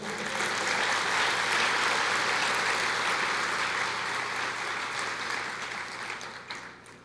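A church congregation applauds during a sermon, a full, sustained wash of clapping that holds strong and then slowly thins out toward the end.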